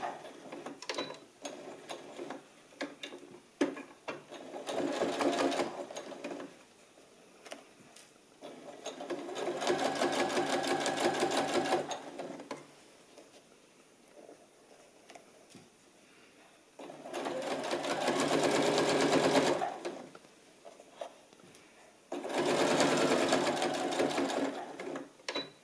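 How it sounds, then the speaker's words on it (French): A sewing machine topstitches a pocket with a lengthened stitch about 5 mm from the edge. It runs in four separate bursts of rapid, close whirring, with quieter pauses between them. "On allonge notre point et on coud à 5 mm du bord"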